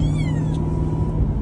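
A Maine Coon cat meows repeatedly, close by, with rising and falling cries over a steady low rumble of a taxi ride.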